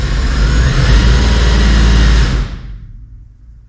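A stock-block drag racing engine being spun over by its starter to check fuel pressure, a loud low mechanical churning that runs steadily for a couple of seconds, then cuts off and winds down into quiet.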